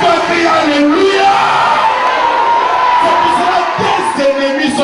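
A worship congregation shouts and cheers loudly together, a dense continuous roar of raised voices filling the room throughout.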